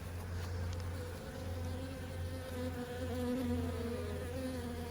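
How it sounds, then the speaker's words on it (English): Honey bees swarm around a hive during varroa mite treatment, a steady dense buzzing that rises and falls slightly, close and continuous with no voices. "I noticed a bunch of bees over here."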